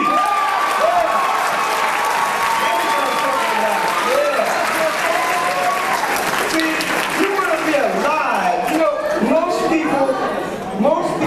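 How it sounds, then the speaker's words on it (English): An audience at a school district gathering breaks into steady applause, dense clapping with crowd noise and scattered voices running throughout at a fairly loud level. "Give yourself a round of applause, please."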